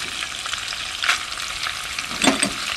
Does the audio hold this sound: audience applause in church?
no